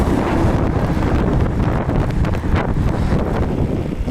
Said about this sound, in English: The wind is very strong again.